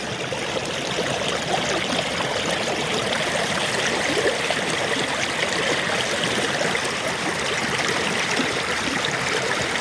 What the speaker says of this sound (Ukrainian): трохи послухаємо воду, як річка тече